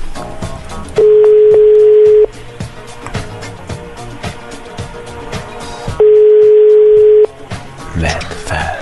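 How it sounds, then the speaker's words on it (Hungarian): A mobile phone call waits to connect, with two long, steady ringback tones separated by a stretch of voices and background chatter, all heard loud and close. "A hívott mobiltelefon kapcsolásáig kis türelmét kérjük."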